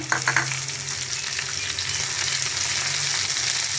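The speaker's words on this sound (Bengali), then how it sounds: "এখন আমি দেবো এই টমেটো কুচানোটা" Chopped tomatoes go into a wok of browned onions for a satin fish curry. A sharp clatter and a few stirs at the start give way to a steady, close frying hiss, with no voices.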